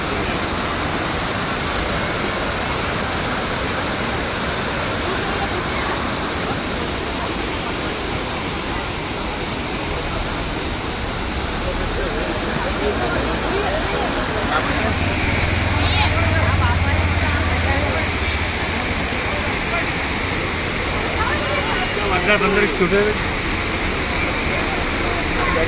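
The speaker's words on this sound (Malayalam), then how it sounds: "ഈ വെള്ളം താഴെ ഈ റോഡിൻ്റെ അടിയിലൂടെ താഴേക്ക് പതിക്കുന്ന" Cheeyappara waterfall in Munnar, water plunging down and running beneath a road, a loud, steady, close roar throughout with people talking under it.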